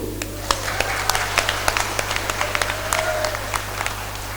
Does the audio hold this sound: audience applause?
yes